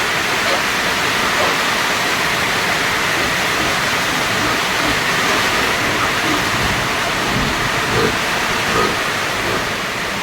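Heavy rain pours down in a steady, loud, unbroken wash of noise with no pauses, out in the open during hot weather.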